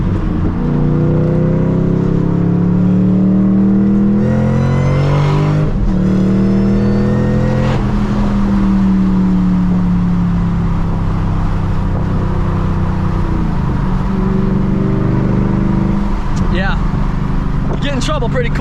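A Ford GT500 with a 5.8-litre V8 pulls hard through second gear on fresh tires, its loud engine note climbing and shifting continuously up close while someone talks over it.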